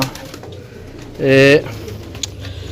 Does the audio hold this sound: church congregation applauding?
no